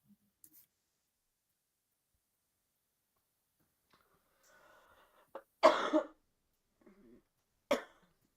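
A woman gives two or three short, sharp coughs at close range in an otherwise quiet room, with faint rustles and small clicks between them.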